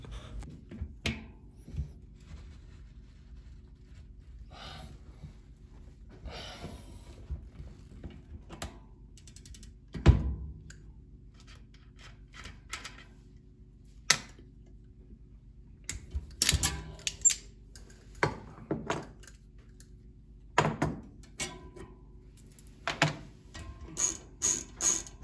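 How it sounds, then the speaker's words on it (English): A wrench tightens a single-speed bicycle freewheel, giving bursts of ratcheting clicks and metallic clanks at close range. Several harder knocks land between quieter stretches of gear clatter. "Now, it's time to get the wrench out, really crank it down."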